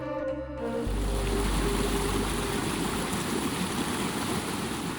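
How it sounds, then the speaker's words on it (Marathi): Kanchan waterfall in the Sahyadri hills during monsoon, dropping about a hundred feet, gives a loud, steady broadband roar of rushing water that fills the scene without pause after a brief opening. "जवळपास शंभर फूट उंचीवरून कोसळणारा कांचन धबधबा"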